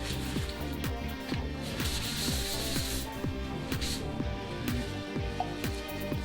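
Greasy hands wipe and rub against a cloth after assembling a Nerf Delta Trooper. The rubbing strokes come in quick repeated swishes, close and fairly quiet, with a low steady hum underneath.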